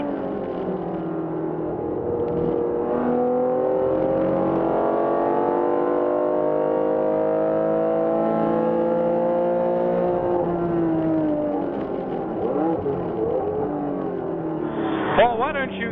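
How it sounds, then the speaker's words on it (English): A 1974 Porsche 911 RSR and other race cars accelerate out of a corner onto the straight, engines rising in pitch through the gears in a loud continuous roar, with voices over the top. "Here they come out of turn 11, accelerating up the start-finish straightaway."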